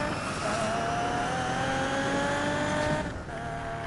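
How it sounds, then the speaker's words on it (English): A Nissan 350Z racing car engine in the video game Need for Speed Payback roars at high revs on nitro, with a steady whine that climbs in pitch, loud and continuous, briefly dipping near the end. "So the nitro is sounding excellent out here"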